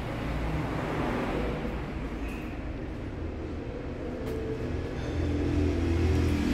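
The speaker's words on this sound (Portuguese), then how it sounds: "O motor da máquina aí para vocês." A 1.8-litre car engine, shown on a World Beetle Day car meet, runs with a steady rough rumble and swells in revs toward the end, heard fairly close with no talk.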